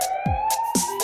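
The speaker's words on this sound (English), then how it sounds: "It's a siren, that's what it is." A fire truck's wailing electronic siren rises and falls in repeated sweeps, loud and close, with no voices over it.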